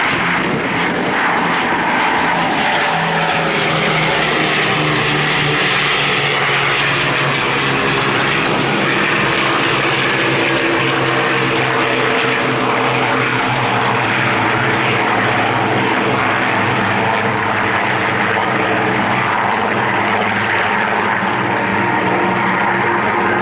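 Battle of Britain Memorial Flight WWII bomber, wheels down, with fighter aircraft catching up, passing at an air display at RAF Cosford: a loud, steady, sustained drone of multiple piston propeller engines lasting throughout.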